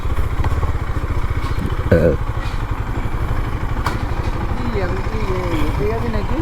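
A KTM Duke 250 BS6 on its stock exhaust runs close by at a steady idle, a constant low engine throb with a short rev blip partway through, while a voice talks over it.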